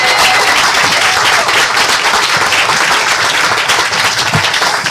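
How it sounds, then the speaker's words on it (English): Sustained applause from an audience at a groundbreaking ceremony for a new facility, dense steady clapping filling the room for the whole stretch without any talking. "So how about another round of applause for them?"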